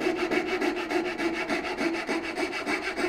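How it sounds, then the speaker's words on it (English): A hand saw cuts through wood in a steady back-and-forth rhythm, each rasping stroke close and clear with no talking, the pace even and unhurried. "I'm not trying to push the saw through, just letting it cut, trying to track up that cut line."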